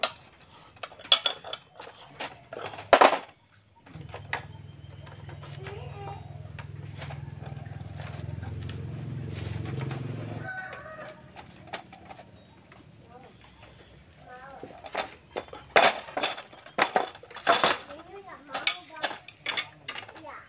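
A nut is fastened and tightened on an automatic scooter, with small metallic clicks and ratcheting ticks, a steady mid-section hum, then a flurry of sharp taps and clacks near the end; someone talks intermittently.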